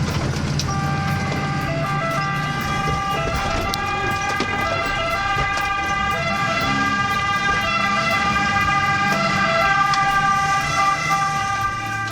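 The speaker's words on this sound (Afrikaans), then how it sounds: "hoe klink 'n brandweer sirene?" A fire engine siren wails continuously and loudly with steady tonal layers, accompanied by engine rumble and occasional horn toots as the vehicle keeps going.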